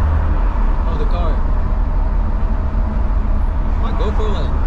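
A BMW M340i fitted with an aftermarket exhaust, heard from inside while driving: a steady, loud low engine and exhaust drone that holds throughout, with someone talking over it.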